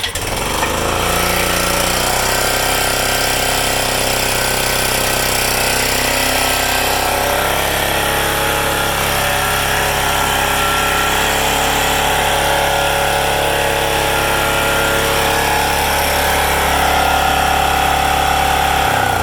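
A small pull-start engine runs steadily after starting, a loud, close, continuous rattling drone with a fast pulsing beat throughout, heard alone without talking.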